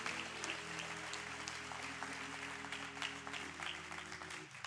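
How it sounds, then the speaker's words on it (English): A church congregation applauds its music team, a faint, sustained patter of clapping under lingering sustained music tones, fading near the end. "Let's give a round of applause to our music team"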